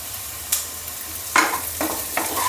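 Frying with red chilli powder just added to the pan, a constant low sizzle with a few crisp stirring scrapes standing out, no talking.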